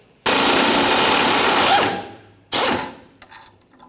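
A power tool whirs on a Nissan Titan's front fuel tank strap bolt, loosening it in a close loud burst of about a second and a half, then a second short burst.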